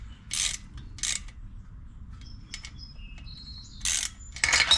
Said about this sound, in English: Trusty little Craftsman quarter drive socket with a bench top socket on it.